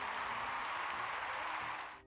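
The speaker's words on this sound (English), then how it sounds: "Can we have a round of applause for the man of the house?" A round of applause for the man of the house, a soft, even patter of clapping that sounds recorded or distant, holding steady for about two seconds before cutting off.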